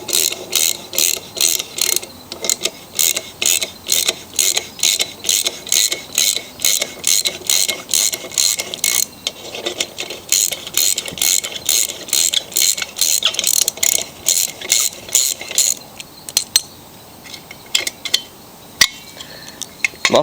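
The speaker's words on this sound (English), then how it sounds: "First thing, we're going to have to remove the muffler. It's held on by 2 bolts." A hand ratchet removes the 7/16 muffler bolts from a Craftsman lawn mower, giving a long run of rapid, close clicking strokes in regular bursts that grow more scattered and break off near the end.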